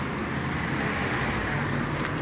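Steady wash of cars passing along a busy road outdoors, a continuous broadband rumble with no distinct individual vehicles and light wind noise over it.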